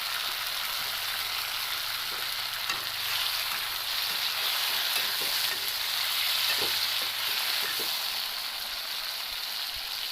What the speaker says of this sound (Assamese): এয়া বিলাহীখিনি দি দিলোঁ, আকৌ ভালদৰে অলপ লৰাই দিম।